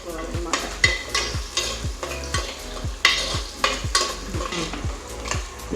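Onions fry in hot oil as a village-style fish curry begins. A steady sizzle runs throughout, and a spoon stirs the pan in a quick, regular rhythm of close scraping strokes.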